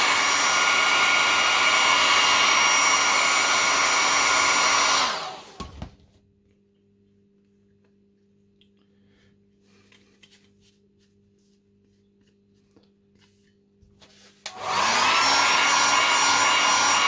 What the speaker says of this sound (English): Alright, get a hair dryer on it.